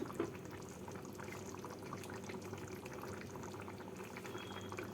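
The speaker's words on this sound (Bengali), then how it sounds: "ঝোলটা ফুটে উঠেছে এবার এর মধ্যে ভাজা মাছগুলোকে দিয়ে দিচ্ছি" A pan of curry gravy bubbling at a steady boil, continuous soft gurgling and popping up close.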